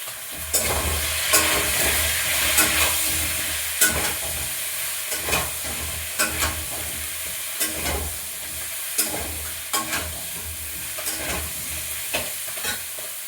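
Cauliflower, potato and onion fry in a pan with a steady hiss, while a spatula scrapes and stirs in regular strokes close by, loud and without voices.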